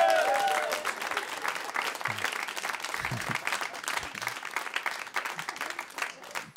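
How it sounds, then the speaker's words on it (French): Audience applause for a performer at a Christmas special stage show, a dense wash of clapping from a crowd that holds steady and slowly thins toward the end, with a few faint voices mixed in. "Faites un applaudissement pour Muriel"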